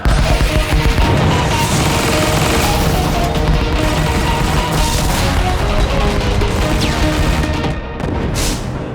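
Cartoon weapons fire and explosions burst in a dense, loud barrage during an animated battle attack, with crashes and booms piling on continuously and briefly easing near the end.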